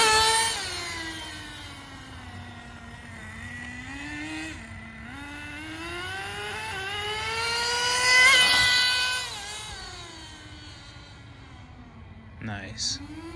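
A HotBodies Tornado RC car runs with a steady, whining motor tone that rises and falls as it cruises, swelling louder near the middle before easing off, with a brief sharp squeak near the end.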